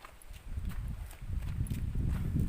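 Hooves clip-clop in a quiet, uneven walking rhythm on a mountain path, soft and muffled, with faint breathing-like noise in between.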